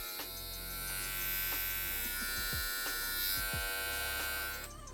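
A small VGR 877 electric shaver runs steadily, a quiet, even motor buzz with a constant hum that carries on alone before cutting off at the end.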